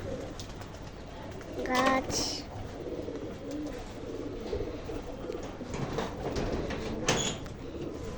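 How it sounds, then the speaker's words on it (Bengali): Pigeons being fed on a rooftop among cages give low cooing and bird calls throughout, with a louder burst of calls near two seconds, while people talk close by. "আজকে আমার বাবা আর আমি কবুতর খাওয়াইতেছি।"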